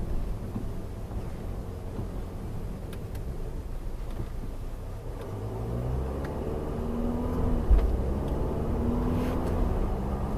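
A car just back from accident repair, its engine rumbling low and steady, then rising into a revving growl as the pedal is pressed, heard from inside the cabin.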